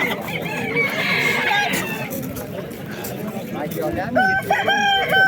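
Roosters crow loudly and chickens cluck at a busy outdoor poultry market, with people talking under the birds.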